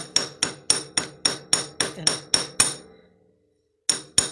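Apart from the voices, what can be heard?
chasing hammer pounding wire on a bench block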